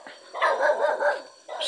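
A dog barks on a dark path at night, giving a few loud, close, rough barks in a quick burst, then one more after a short gap.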